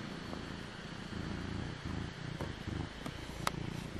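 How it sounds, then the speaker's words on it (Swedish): A small cat purrs close by, a soft, steady low rumble running through the whole stretch, with a couple of faint clicks near the end. "Oj vad du spinner lilla vän."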